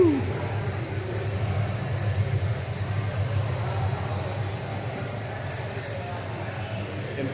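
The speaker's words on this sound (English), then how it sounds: "We're in the staging lanes back here, so you'll hear a lot of cars moving" Cars moving through the staging lanes at a Mecum classic car auction, a low continuous engine and traffic rumble in the background, with a person talking over it throughout.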